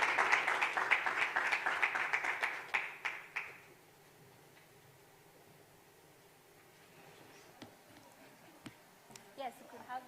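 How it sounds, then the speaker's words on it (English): A conference audience claps warmly for insurtech program panelists leaving the stage: dense, fairly loud applause for about three seconds that thins and fades into quiet room tone, with a few scattered sounds later. "Kindly give them a warm round of applause as they exit the stage."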